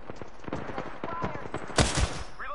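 Rapid bursts of gunfire in an online battle royale shooter, a string of close, sharp automatic shots with one louder cluster near the end, mixed with faint background game sounds.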